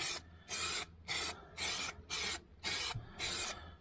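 Seven short hissing bursts from an aerosol spray paint can coating new sills on a Jaguar X-Type Estate, evenly spaced about half a second apart, close and fairly loud with brief quiet gaps.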